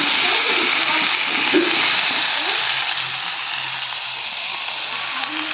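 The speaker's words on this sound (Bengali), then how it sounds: "আলুগুলো সব ভেজে নেবো এবার কলাই আলুগুলো ভেজে নিই" Potatoes fry in a pan with a continuous broadband sizzle and hiss close up, loud at first and easing slightly. A faint voice can be heard beneath it.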